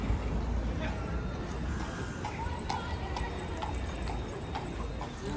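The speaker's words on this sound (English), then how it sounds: "some of us are fixing to go on a little horse and buggy ride" Horse pulling a buggy on a ride through a national park in Killarney, its hooves clip-clopping in a steady rhythm under constant road noise and faint background chatter.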